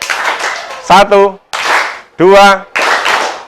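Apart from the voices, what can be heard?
children clapping in rhythm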